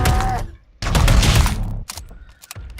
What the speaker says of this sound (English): the actual Dissonance Carbine, which is kind of like a shotgun dissonance thing